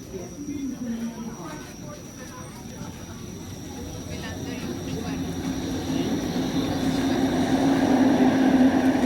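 Rumbling light rail train in an underground station on Toronto's Line 5 Eglinton, a low drone building steadily louder, with a crowd murmuring throughout.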